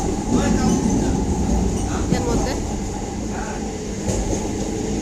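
Steady rumble and rattle from inside a moving train at dawn, near and continuous, with clattering wheels and occasional squeaks; a person speaks briefly over it.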